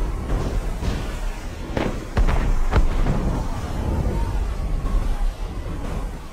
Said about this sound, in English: Cannon fire. Deep within the forest.